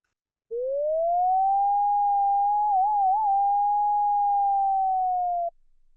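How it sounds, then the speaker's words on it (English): Sonified residuals of a statistical model played as a pure sine tone, a steady loud whistle that rises slightly at the start, briefly wobbles up and down quickly in the middle, then drifts lower before cutting off, alone with no talk. "you can hear where the sine wave is missing in the middle, where it kind of wiggles up and down quite fast"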